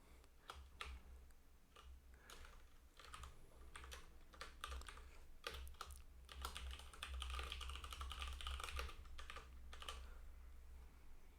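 Code being typed on a computer keyboard: a steady run of quick, close key clicks with irregular rhythm and occasional heavier strokes, continuing for several seconds with no talking.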